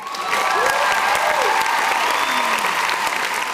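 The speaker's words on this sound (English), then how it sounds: "Let's give another round of applause to our actors." A crowd gives sustained, loud applause for the actors on a comedy show, the clapping dense and steady throughout with a few faint whoops and voices mixed in.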